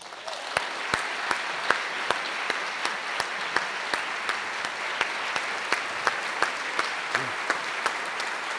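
An audience claps steadily to welcome a lecturer at a downtown lecture series, the applause dense and sustained, with sharp individual claps standing out across the whole stretch and no talking over it.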